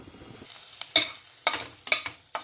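Onions crackle and sizzle in a pan with little oil over low heat, punctuated by a few sharp scraping stirs at irregular intervals, close and fairly quiet otherwise.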